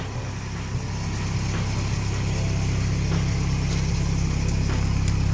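Swapped engine idling in a Mazda Miata, a steady low rumble held evenly and close with no revving or talk.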